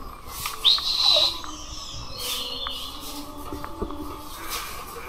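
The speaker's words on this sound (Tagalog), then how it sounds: "Maingay yung ibon." A bird gives a sharp, high chirping call over steady outdoor background noise, with a few fainter calls following.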